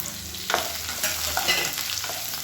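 Green chilies, seven or eight of them broken or cut, sauté in a pan with steady broadband sizzling and scraping stir strokes, close and moderately loud, with no one talking.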